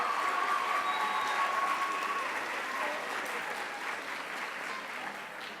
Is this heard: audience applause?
yes